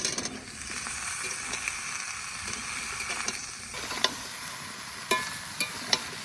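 Potatoes and onion frying in a pan as ridge gourd goes in: a steady low sizzle with scattered sharp clicks and scrapes of stirring, fairly close and moderate in level.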